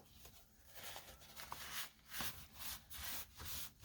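Finish rubbed by hand onto a wooden board, a steady rhythmic swishing of back-and-forth strokes, close and soft, with no voices.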